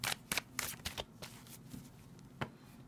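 Animal totem tarot cards are shuffled close by, a series of crisp papery riffles and taps in quick bursts, then scattered softer flicks against a quiet room.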